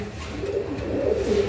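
Healthy racing pigeons offered for sale coo in a soft, continuous low burble that swells slightly toward the end, near and alone without speech.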